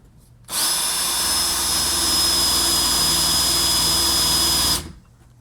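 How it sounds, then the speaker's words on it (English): A power drill pre-drills screw holes for installing a kitchen countertop, one loud, steady high whine that starts abruptly, runs about four seconds and cuts off cleanly. "We'll do some pre-drilling here."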